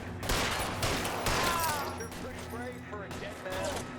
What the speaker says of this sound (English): I'm getting some awesome fucking headshots here